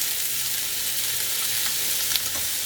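Lamb and feta burgers sizzle in a grill pan heated to medium-high, a steady, close, hissing fry with faint crackles and no talk.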